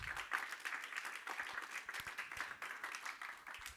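A church congregation clapping for the Lord, dense rapid applause with rhythmic bursts filling the room, moderately close, with faint voices beneath.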